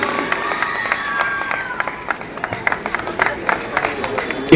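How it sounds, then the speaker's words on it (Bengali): A crowd claps steadily at a cheque distribution ceremony for the Niyut Moina 2.0 scheme in Silchar, the applause dense and sustained with faint voices mixed in. "একটা জোরদার হাততালি হবে সবাই মিলে"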